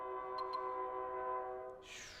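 A sustained train horn in Tales of Xillia 2, a steady chord-like blare held for nearly two seconds before breaking into a hiss at the end.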